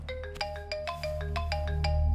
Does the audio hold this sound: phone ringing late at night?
yes